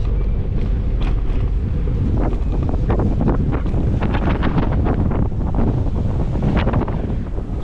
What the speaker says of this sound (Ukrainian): який вітер жесть, це Сахари